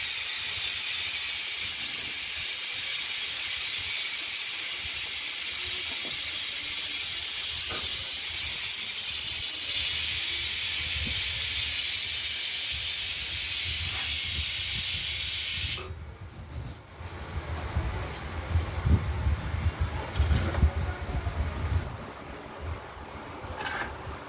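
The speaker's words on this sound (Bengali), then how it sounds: "খুব সামান্য প্রেসার কুকারে প্রেসার এসে গেছে, একটা পড়লো।" A pressure cooker on a home kitchen stove vents steam in a loud, steady hiss for about sixteen seconds, then cuts off abruptly, leaving quieter clattering kitchen noise.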